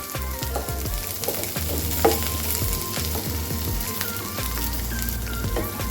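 Okra and onion fry in a pan with a steady, close crackling sizzle, scattered pops and spits, and a couple of light utensil knocks, with no one talking.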